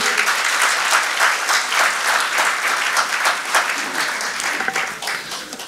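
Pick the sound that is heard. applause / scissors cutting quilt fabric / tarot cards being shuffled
applause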